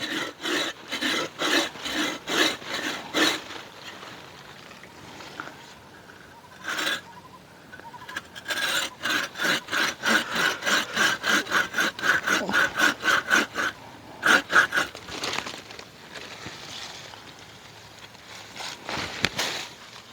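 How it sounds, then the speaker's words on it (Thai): A hand saw rasps back and forth through a durian tree branch during pruning, in steady strokes, pausing briefly, then resuming in quicker, rhythmic bursts. "ใช้เลื่อยนะครับ ตัดข้างล่างก่อนเหมือนเดิมนะครับ"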